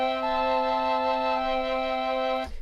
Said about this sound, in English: Flute sounds like this.